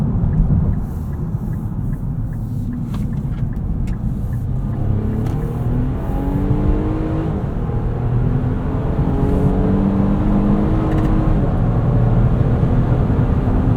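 A 2023 Nissan Pathfinder Rock Creek in sport mode hums steadily from inside the cabin, with a low engine drone and road rumble that rises slowly as it accelerates, loud and continuous with no talk.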